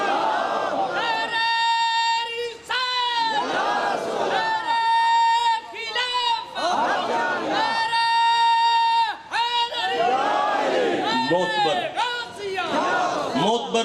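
A large religious gathering answers a Takbeer call, the crowd roaring out its chant in repeated loud waves of many voices, each surge rising and dropping away, close and overwhelming.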